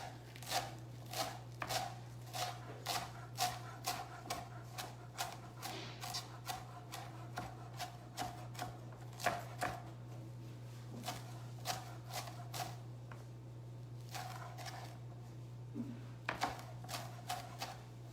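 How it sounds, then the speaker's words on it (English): A knife chops cilantro and avocado on a board for a chicken tortilla soup topping, making steady quick taps in rhythmic runs with short pauses, over a constant low hum. "we have some cilantro and avocado we need to chop up to top our soup with"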